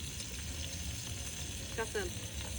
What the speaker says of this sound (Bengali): এই যে ফ্রেশ ফ্রেশ মাছ ভাজা হচ্ছে